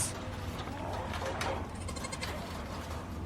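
Goats bleat during leash training, a few short bleats rising over steady low background noise, fairly faint and close.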